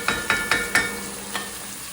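Ground beef browning in a pot for bolognese, with four quick, even scraping strokes of a utensil over a soft sizzle, then a fainter fifth stir after a pause.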